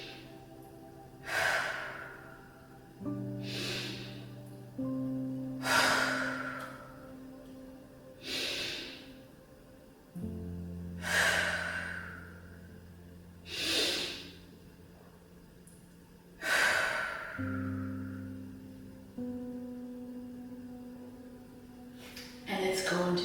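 Slow, deep breaths from a person during a somatic trauma-releasing exercise, each drawn-out inhale and exhale repeating at a steady, unhurried pace over a quiet low musical drone.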